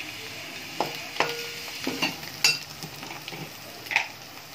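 Fish eggs fry in a pan with masala powder while a spoon stirs them, giving soft steady sizzling broken by scattered clinks and scrapes of metal against the pan, fairly close and without talk.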